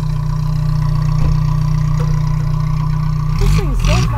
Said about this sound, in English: Good idle.